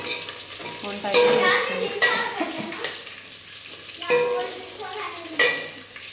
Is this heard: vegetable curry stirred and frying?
yes